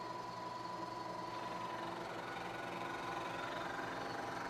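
A milling machine running at 1,000 RPM takes a shallow cut to square up the edge of a part, giving a steady, continuous mechanical whine and hum with a faint tonal ring, even and uninterrupted throughout, with no talk.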